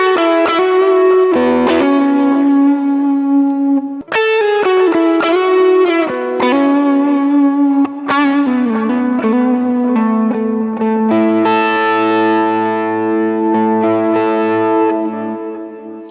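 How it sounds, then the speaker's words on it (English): A Telecaster on its neck pickup alone, run through chorus and light distortion, plays a steady, loud phrase of strummed and picked chords with echo trails, ending on a sustained ringing chord, no talk. "And here's the neck pickup by itself."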